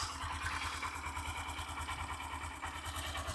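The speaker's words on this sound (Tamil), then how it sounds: "வண்டியோட ஐடிலிங் எல்லாம் வந்து பார்த்திங்கன்னா தெளிவாக இருக்குங்க" A Honda SP 125 motorcycle idling steadily nearby, giving a fast even putter with a faint mechanical ticking on top, quiet and continuous without any voices.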